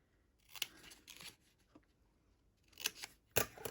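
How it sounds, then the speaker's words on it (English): Scissors snip paper to cut small tabs for chocolate favor packaging, with a few quick close crisp cuts, a pause, then two more sharp snips, quiet and alone. "cut our little tabs on each side. Don't have to do any fancy cutting."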